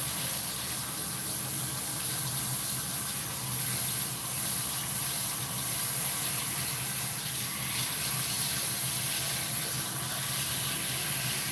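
Water runs steadily from the faucet of a salon shampoo bowl, a continuous near hiss and spray with no break across the whole stretch.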